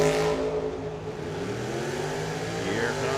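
A dragster engine drones and revs at a drag race at Firebird Motorsports Park, a loud sustained roar with shifting pitch under an announcer's commentary.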